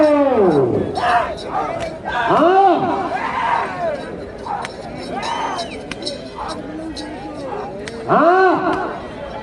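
At a bullock pair race in Yaganti, Banaganapalli, in the four-teeth class, a close, loud crowd shouts and whistles in rising and falling bursts, with many voices yelling together and the loudest surges near the start and end.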